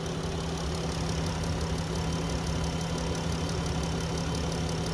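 A 2014 Chrysler Town & Country Touring minivan idles steadily and smoothly, a constant low engine hum with a faint mechanical ticking, close by and without voices.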